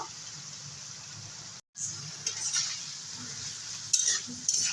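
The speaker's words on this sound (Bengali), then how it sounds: "আরও দু তিন মিনিটের মতো ফুটিয়ে নেব" Fish and helencha greens curry simmering and bubbling in a pan, a steady low sizzle with faint stirring and utensil clinks, close and continuous apart from a brief break.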